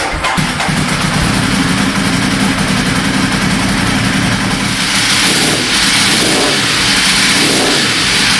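Motor-swapped Ducati 916 motorcycle engine catching and running, then revved several times in rising and falling surges over a loud rough idle, close and alone.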